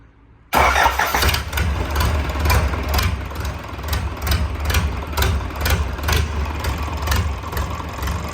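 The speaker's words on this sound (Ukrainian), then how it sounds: "Ну що, робимо перший пуск." A new YTO engine fires up abruptly after a brief silence and settles into a steady, loud, rumbling idle with a regular knocking pulse. No one speaks over it.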